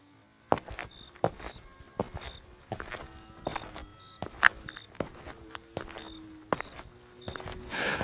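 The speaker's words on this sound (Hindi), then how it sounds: "तभी अचानक कदमों की आहट सुनाई दी।" Footsteps approach at night in a quiet village, with steady, evenly spaced steps that come close and firm, faint background hiss behind them and no talk.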